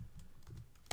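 A quick burst of keystrokes on a Mac computer keyboard, faint and close, with a sharper tap at the end.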